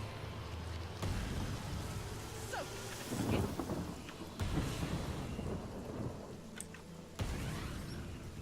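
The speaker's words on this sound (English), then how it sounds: "what we're going to do is we're going to get some rain going. Yeah, rain's always good." Rain and rolling thunder from the video game Divinity: Original Sin, a steady downpour with several low thunder rumbles and cracks spread through it, fairly quiet and heard alone.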